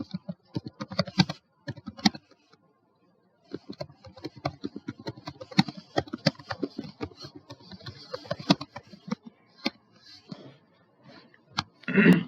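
Close-up typing on a computer keyboard, quick bursts of crisp key clicks with short pauses between words and a brief silent gap, ending in a heavier clatter.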